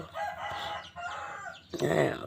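A rooster crows at a rural forest-edge home, one full cock-a-doodle-doo with rising and falling calls, close and fairly loud, ending in a burst of clucking, with no talk over it.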